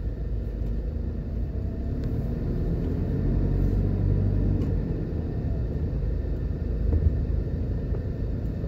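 A car rolls through a shopping plaza in Drax Hall, Jamaica, with a steady low engine and road rumble throughout and no talking.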